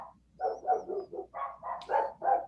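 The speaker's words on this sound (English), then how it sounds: "Those are my dogs." A few dogs bark in a quick run of yapping, excited barks at a house with horses kept close by out back, heard near and alone with no talk over them.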